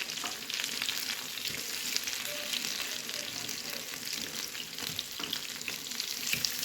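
Eggplant fritters deep-frying in hot oil in a pan, a constant, close crackling sizzle with scattered small pops and faint utensil taps as pieces are turned.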